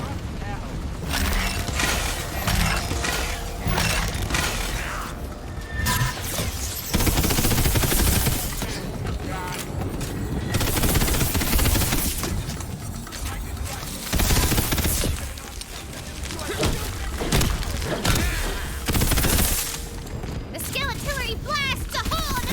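Gunfire in Tiny Tina's Wonderlands, bursts of rapid shooting and explosions that come and go over a long stretch of busy game noise, with someone talking over parts of it.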